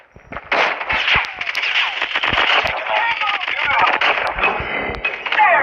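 Suppressed MP7 gunfire in the mobile game Call of Duty Mobile comes as a sustained, dense stream of muffled shots over game effects, with voices talking over it.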